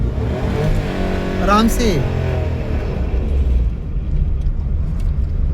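A car engine revs up as the clutch is let out during a driving lesson, with low rumbling rising briefly in pitch then settling into a steady drone under a calm spoken instruction.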